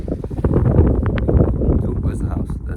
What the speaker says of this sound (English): it's another windy one